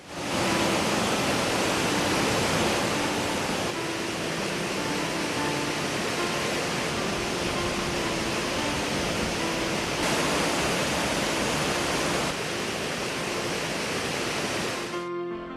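Steady, full rushing of a waterfall in the Uttarakhand hills, a dense continuous roar that holds at an even loudness throughout with no voices.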